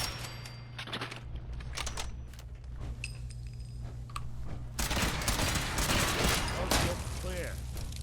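Enemy gunfire in Fallout 4, rapid bursts of shots crackling in the background, growing louder and denser toward the end as a fusillade, with faint voice in between.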